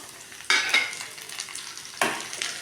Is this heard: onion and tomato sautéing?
yes